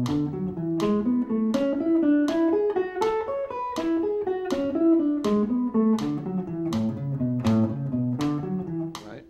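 Guitar plays a minor pentatonic sequence as steady eighth-note triplets, three plucked notes per beat, even and continuous at moderate loudness with no talking.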